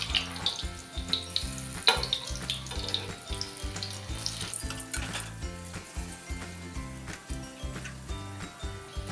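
Bombay duck fritters cook in a pan over medium heat after being flipped, giving a steady, soft sizzle with faint bubbling and no voices.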